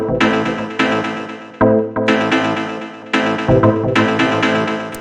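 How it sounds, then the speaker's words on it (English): Punchy synth stabs in a modern house loop hit in short repeated bursts, loud and dry, falling into a rhythmic pattern with brief gaps between chords; no voices present. "the first thing that we have up here are these two stabs, which sound like this."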